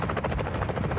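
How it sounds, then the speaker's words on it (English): Helicopter in the video game Warzone 2, a loud, close rotor thumping that pulses rapidly and evenly throughout a brief moment. "Helicopters."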